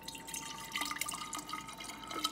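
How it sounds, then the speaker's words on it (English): Homemade reusable-wipe solution made with castile soap being poured into a jar, a soft continuous trickle and splash of liquid, faint and close. "I'm gonna pour it into my jar."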